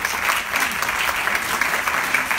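Audience applause at a pitch evening for impact investing, a dense steady patter of many hands clapping throughout, close and fairly loud.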